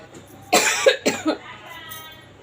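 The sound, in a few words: coughing from smoke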